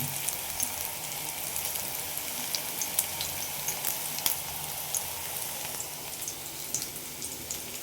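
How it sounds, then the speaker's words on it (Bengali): Flower fritters (bora) fry in hot oil, giving a steady, close crackling sizzle with scattered sharper pops throughout and no talking. "আমার তো ভীষণ ভালো লাগে বড়া ভাজতে।"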